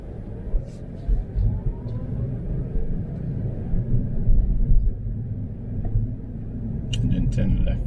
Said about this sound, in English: We are driving in a street which is narrow and there are vehicles parked on both sides.